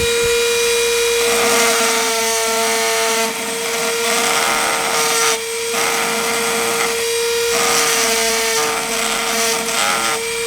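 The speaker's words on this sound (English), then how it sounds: "I have re-engraved it with the Dremel" A Dremel rotary tool engraving: a loud, continuous high-pitched whine with steady harmonics, dipping and surging in short pulses as the bit bites and lifts, close up with no voices.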